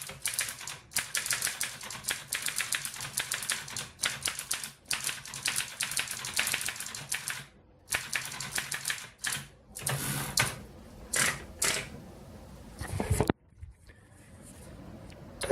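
A 1911 Remington Standard 10 manual typewriter fitted with an old ribbon types in close, rapid bursts of sharp key strikes with brief pauses in between, then a few scattered strokes and a carriage thump near the end.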